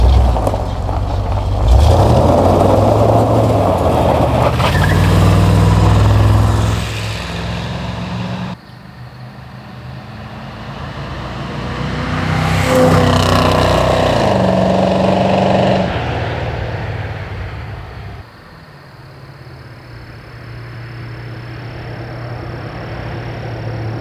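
A C3 Corvette drives past outside, its engine rumble and exhaust roar swelling as it approaches, fading, then rising again with a second pass, loud and continuous over road noise.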